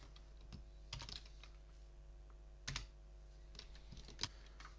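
Keystrokes on a computer keyboard while text is entered in a drawing program, arriving in short irregular bursts of clicks with pauses between them, close and fairly quiet against a low steady hum.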